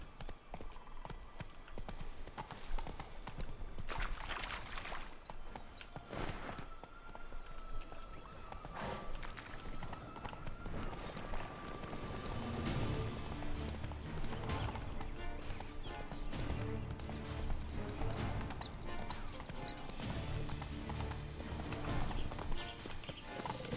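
Geralt's horse Roach gallops in The Witcher 3, sending out a continuous rapid clip-clop of hooves at moderate volume, with a brief whinny and game ambience beneath it.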